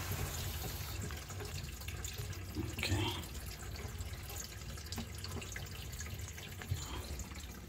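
Water runs from a bathroom sink faucet in a steady, close splashing stream with a few louder gurgles partway through, continuing with no voices.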